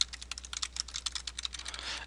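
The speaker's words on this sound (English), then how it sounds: "Just click wherever, and you can start typing until the cows come home." Soft, quick keystrokes on a computer keyboard, an uneven stream of light clicks close by over a faint steady hum.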